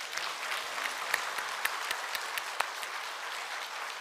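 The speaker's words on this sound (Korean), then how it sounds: "우리 하나님께 영광의 박수 하겠습니다" A church congregation claps in steady, moderately distant applause, with a few sharper individual claps standing out over the continuous patter.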